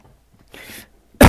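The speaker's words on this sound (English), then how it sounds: "Sorry, bro. I had to cough." A single loud, harsh cough bursts out abruptly at the end, close to the mic, after a stretch of quiet low murmuring and a brief breathy noise.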